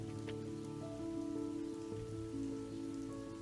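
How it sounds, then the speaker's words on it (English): Very faint, steady rain pattering on a surface as tabletop RPG ambience, a soft continuous hiss with light tonal music beneath, no voices. "it's a very faint rain"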